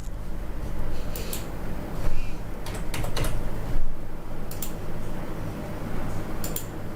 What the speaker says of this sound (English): Let's type in QES.